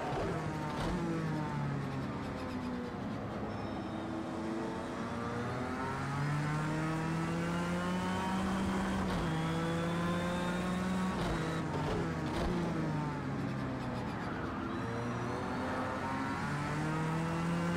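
Race car engines in a racing video game drone and rev continuously, pitch rising and falling through gear changes as the cars run close together, loud and steady throughout without talking.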